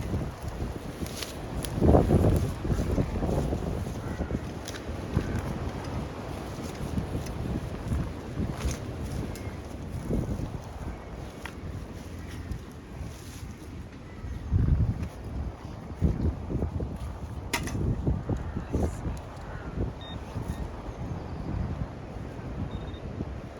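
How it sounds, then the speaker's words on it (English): Strong gusts buffet the microphone on an open field in bitterly cold weather, a continuous loud rushing roar that swells and surges in bursts, with no talk. "It's so windy and bitterly cold."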